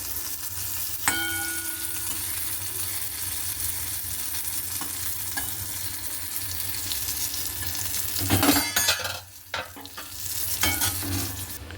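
Bitter gourd frying in a home kitchen pan (karai) gives a steady close sizzle. A spatula stirs and scrapes now and then, and there are sharp metallic clangs and clinks near the end.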